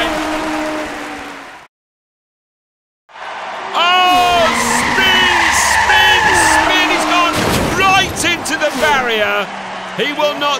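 Recorded race car effects from a racing-helmet talking bottle opener: tyre squeals and skidding with engine whine over a crowd-like roar after a brief silence, with a voice speaking over the effects.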